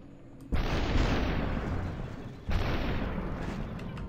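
Two loud, booming bursts of gunfire in the video game SUPERHOT, each a sudden blast that rumbles on for about two seconds.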